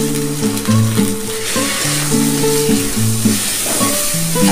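Washed moong dal sizzles in hot oil in a wok, a loud, constant close-up crackle with bubbling hiss throughout, and a tonal hum running underneath.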